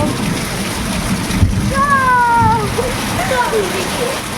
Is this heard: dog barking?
no